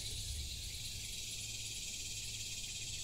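Dense outdoor chorus of insects or frogs with a steady high-pitched shimmer and low rumble, continuous and even throughout, recorded in a rainy garden setting with no speech.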